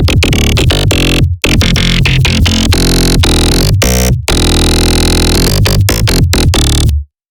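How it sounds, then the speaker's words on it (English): Dense synthesized growl bass song played loud and continuous, a thick saturated snarl with brief sharp cutouts and stutters before stopping abruptly near the end, with no talking over it. "That's actually the growl song you can hear right now."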